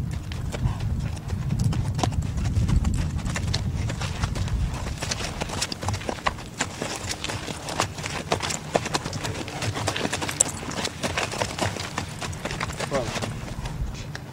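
A horse's hooves pound in rapid, continuous beats as it spins at speed, heard at moderate distance under steady background noise.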